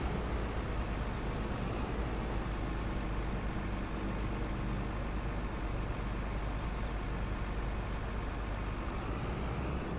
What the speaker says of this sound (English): Wow, what's with the traffic?